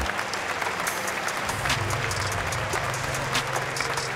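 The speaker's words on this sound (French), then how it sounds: "Même les supporters de United n'ont pas pu s'empêcher de l'applaudir." Manchester United supporters in a football stadium applaud from the stands, a dense, steady wash of clapping from a large crowd that carries on throughout.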